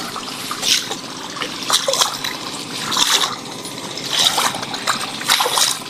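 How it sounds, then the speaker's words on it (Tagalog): Irrigation water is released into a direct-seeded rice field. It gushes and splashes loudly and close by, in repeated surging bursts over a constant flowing wash. "Yan, bubuksan natin to. Magre-release na ang tubig."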